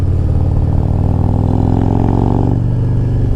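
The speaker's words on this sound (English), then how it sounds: "I can hear the air being sucked in through the ventilator breather" Harley-Davidson Road Glide Special engine at about quarter throttle, a loud, close, deep rumble with a steady lumpy pulse and airy intake breathing, swelling slightly midway before settling.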